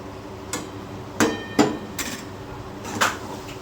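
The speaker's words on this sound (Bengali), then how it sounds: "এরপর ভালো করে নাড়াচাড়া করে নেব।" Okra and potatoes being stirred in mustard oil in a pan, a spoon knocking against the metal in a handful of sharp, separate clanks spread over a few seconds, close and fairly loud with no talking.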